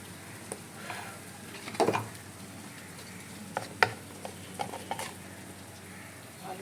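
Potatoes dropped into a frying pan and stirred, heard as a quiet sizzle with scattered scraping and clattering knocks, one louder cluster near the start and a few sharp ticks after.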